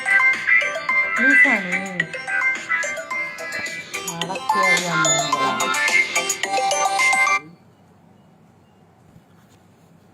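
A mobile phone rings loudly and close with a melodic ringtone for an incoming call, someone talking over it, until the tone cuts off abruptly and leaves a quiet room.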